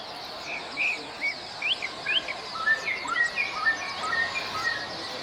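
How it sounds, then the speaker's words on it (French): Caged songbirds at a singing competition judged in front of a crowd, many bright chirps and whistled phrases overlapping continuously above a steady hiss of crowd and insect-like background noise. "Les oiseaux en cage chantent à tue-tête."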